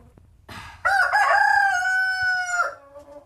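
A single loud rooster crow rings out close by, rising and holding a long drawn note before breaking off, over a quiet background.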